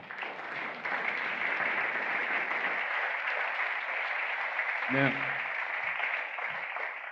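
Church congregation claps after a line about being an anti-racist, multicultural community, a steady stretch of applause that swells and holds, with a brief spoken word near the end.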